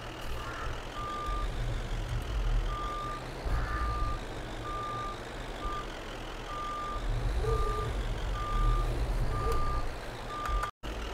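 A dump truck in Farming Simulator 22 backs up with a regular, evenly spaced reversing beep over a low, steady engine rumble, with a brief cut near the end.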